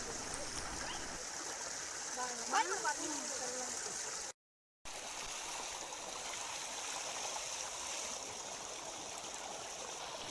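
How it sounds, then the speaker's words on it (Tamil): Water runs steadily and faintly while goat intestine is rinsed clean, a soft continuous trickle that drops out briefly partway through. "தண்ணியை குடலுக்குள்ளே சேர்த்து க்ளீன் பண்ணும்போது"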